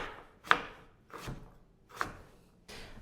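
Knife cubing orange winter squash or pumpkin on a cutting board: four separate chopping thunks at an even pace, close but fairly soft.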